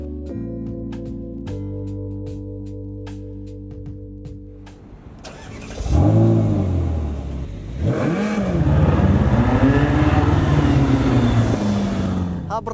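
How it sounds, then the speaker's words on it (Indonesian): Ferrari California sports car starting up and pulling away, its engine swelling into loud rising revs and accelerating sweeps after a quieter opening with a steady tonal hum. "gue penasaran banget untuk mencoba sedikit rasa berkendara dari Ferrari California ini"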